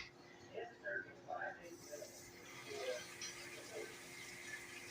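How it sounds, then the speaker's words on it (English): Cold tap water runs steadily into a small measuring cup in a home kitchen while making a dairy-free pumpkin pie, a soft continuous rush with faint clinks and brief voice sounds nearby. "So I'm going to go ahead and fill this, my little measuring cup, up to 1/4 of cold water."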